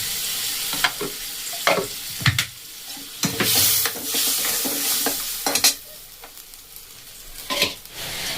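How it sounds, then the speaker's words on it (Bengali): Ground spice paste frying in hot oil for cauliflower khichdi, stirred with a spoon in a pan: steady sizzle with repeated scraping strokes and occasional clinks, close and fairly loud, no talking. "দেখুন মশলাটা খুব সুন্দর কষানো হয়ে গেছে"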